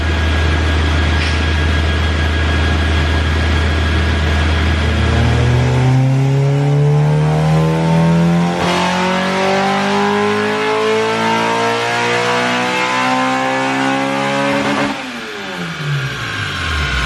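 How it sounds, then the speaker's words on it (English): A Honda Integra Type R engine on a dyno goes to full throttle, revving loud and close as its pitch sweeps steadily upward for several seconds, then drops sharply as the throttle lifts near the end. "let's do a full throttle run, we'll see where we are"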